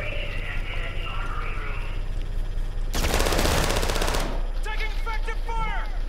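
Call of Duty Modern Warfare II gunfire: a dense, loud burst of rapid automatic shots lasting over a second, breaking through a steady game background, with brief chirpy sounds after it.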